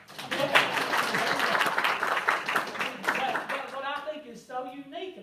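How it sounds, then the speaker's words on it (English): A crowd at a school district talk applauds with a dense, steady wash of clapping. Near the end it thins and a voice speaks over the fading claps. "I can hear the crowd erupt in applause now."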